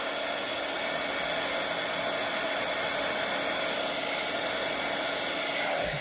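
A hair dryer blows steadily and close by over tea-stained paper embellishments, a constant whooshing motor roar running unbroken throughout.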